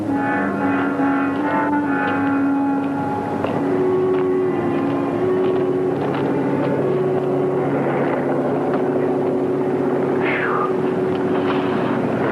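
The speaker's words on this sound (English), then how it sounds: "A half dozen planes from the Sheriff's Aero Squadron continued patrolling the entire area." Several aircraft of a sheriff's aero squadron drone steadily overhead while patrolling open fields, a continuous engine hum with shifting tonal lines running throughout, no talk.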